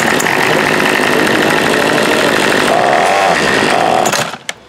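A Remington Rustler RM2510 riding mower engine with a bad carburetor runs loud and steady with a rough, buzzing drone, then cuts out abruptly near the end.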